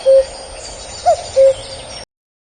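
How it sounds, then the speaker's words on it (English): Bird call from an animal-sounds collection for children: a short clear tone, then a brief warbled note, then another short tone, evenly spaced like a two-part cuckoo call, alone with no talking. "Cuckoo."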